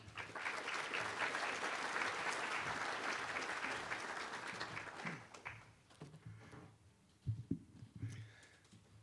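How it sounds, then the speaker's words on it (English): An audience at the State of the Map US 2024 conference applauds in a dense, steady wash for about five seconds, then thins out to a few scattered claps and faint murmurs. "So please give Martijn a round of applause."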